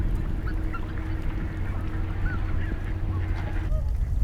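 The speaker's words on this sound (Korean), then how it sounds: "몸이 무겁고 다리가 짧은 큰 기러기는 개펄에서 활동하기 불편합니다" Bean geese on the Suncheon Bay mudflat give scattered honking calls, several overlapping at moderate distance over a constant low outdoor rumble.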